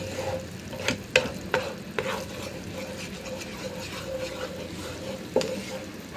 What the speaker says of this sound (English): So I'm going to stir this well.